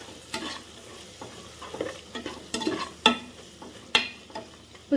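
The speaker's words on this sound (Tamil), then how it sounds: "உப்பு சேர்த்திட்டு நல்லா கிளறி விட்டுருங்க" A spoon stirs salted gravy in a pan for crab curry. Irregular close scrapes and knocks come every second or so over a low, steady sizzle, with no voices.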